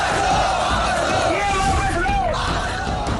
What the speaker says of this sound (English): Crowds of Karyakartas and jubilant BJP leaders in Bhopal